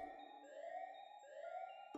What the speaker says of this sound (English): Something went off. The alarm.